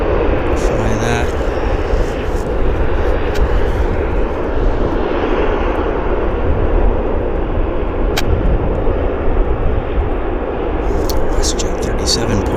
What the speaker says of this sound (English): WestJet 37 pushing back.